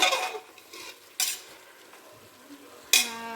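Tomatoes cook with a ground ginger, garlic, cinnamon, clove, coriander, mint and turmeric masala in a pan, giving a soft sizzle punctuated by a few sharp spoon scrapes against the metal, close and quiet without voices.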